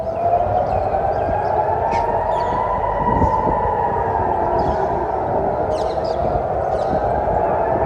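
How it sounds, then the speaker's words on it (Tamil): Air raid sirens wail across Jerusalem during a missile warning, a loud steady rising and falling tone that carries on throughout, with faint distant dog barks and background noise beneath it. "ஜெருசலேமின் பல்வேறு இடங்களில் அலறிய சைரன்கள்"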